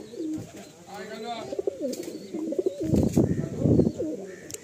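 Madrasi pigeons in a loft coo in repeated warbling, rolling phrases close by, layered over one another, with a burst of louder rustling or wing noise near the end.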